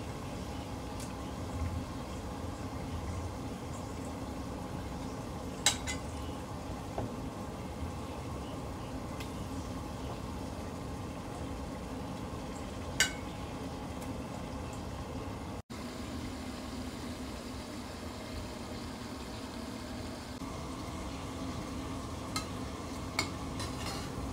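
Fish fry in a pan and are stirred during cooking. A steady, soft sizzle continues throughout, with occasional sharp clinks of a utensil against the pan, close by and alone.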